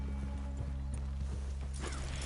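Horses walking in Red Dead Redemption 2: soft, evenly spaced hoof clops in a quiet, steady rhythm over a low constant hum.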